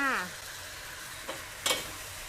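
Vegetables and black pepper shrimp are tossed in a hot pan, giving a soft steady sizzle with a couple of brief scrape or clatter accents and no talking.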